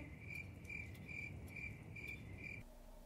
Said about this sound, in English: to have that classic followed up by crickets?